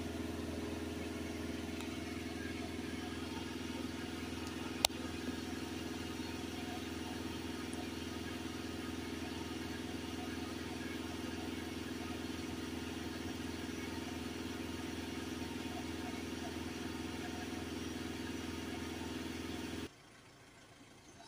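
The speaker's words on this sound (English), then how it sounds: "So I'm just holding my foot on the accelerator basically." VW Crafter 2.0 TDI diesel engine held at raised revs with the accelerator pressed, a steady, even drone that continues for about twenty seconds before dropping off abruptly near the end.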